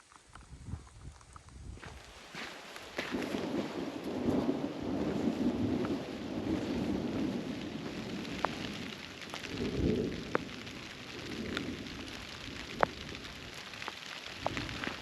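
A thunderstorm rolls over a mountain hiking trail, low thunder rumbling in long swells under a steady hiss of rain, with occasional sharp drips and taps close by.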